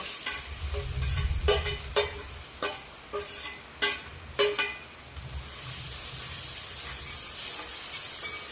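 Ground spice paste being sautéed in a pan for a spinach stir-fry, with a bed of frying sizzle and a series of sharp spatula clacks and scrapes in the first half, then a steady hiss, close and alone.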